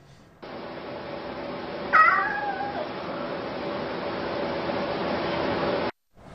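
A hungry cat lets out a single drawn-out meow over a constant hissing background, with no one talking.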